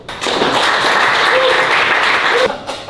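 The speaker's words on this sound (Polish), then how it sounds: "Można bić brawo" Loud, sustained applause from an audience at an evening karaoke event in Opalenica, an even wash of clapping lasting nearly three seconds before it drops off.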